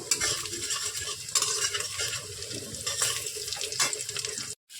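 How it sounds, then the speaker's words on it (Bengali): Chopped onion, garlic and green chilli fry in oil while being stirred, a soft continuous crackle with scraping utensil strokes, fairly quiet and close, ending in a brief silence. "এইভাবে নেড়ে চেড়ে পেঁয়াজটাকে ভালো করে ভেজে নেব"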